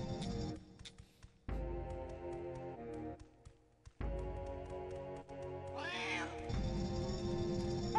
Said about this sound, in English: Poor little kitties.